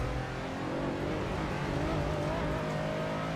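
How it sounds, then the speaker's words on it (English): A racing car engine in a sim racing video game holds a continuous, flat-toned drone at steady revs, close and loud throughout, with no voices over it. "a lot of the cars have really flat sounding engines"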